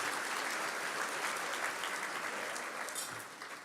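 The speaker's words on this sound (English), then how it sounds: "we would love to give them a round of applause also, our alumni." Steady, dense applause from an audience at a medical school Match Day ceremony honoring alumni, sustained throughout and easing slightly near the end, with no talking over it.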